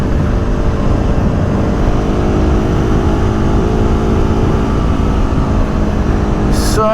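A sportbike engine, a BMW M1000 R or Aprilia Tuono V4 Factory, drones loud and steady during a test ride, with heavy rumble and wind throughout and a brief faint chirp near the end.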